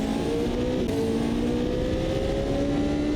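An LMP2 prototype race car engine in Automobilista 2 revs steadily, its pitch climbing smoothly in a loud, continuous high-revving drone with no talk over it.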